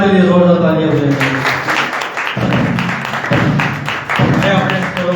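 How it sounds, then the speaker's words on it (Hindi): Applause from an audience at a church prayer gathering rises as a loud, dense wash of clapping over the whole stretch, with a voice speaking over it. "के जलाल के लिए जोरदार तालियां बजाएं"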